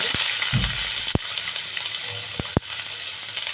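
Onion fries in hot oil in which seeds are already crackling, a bright steady sizzle with a few sharp pops and a brief stirring rustle, close up with no talk.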